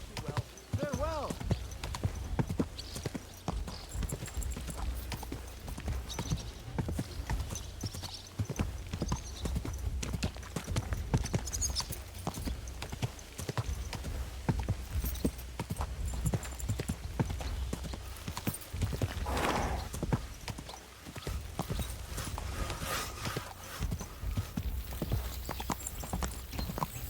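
Horse hooves clip-clop steadily through a stretch of Kingdom Come Deliverance 2 gameplay, a continuous rhythmic trot held at close range beneath occasional spoken commands to the horse and a brief whinny.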